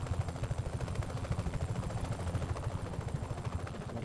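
A helicopter in the Just Cause 3 video game flies nearby with a rapid rhythmic rotor thump and low engine drone, fairly quiet and steady with no voices.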